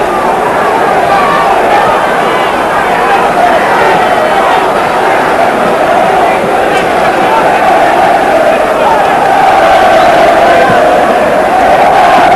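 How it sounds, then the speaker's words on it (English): A large football crowd of travelling Grimsby Town supporters applauds and cheers at a Division Three match against Barnsley, a loud, dense, continuous roar that holds steady throughout. "Further applause from the thousands who've made their way over from Grimsby."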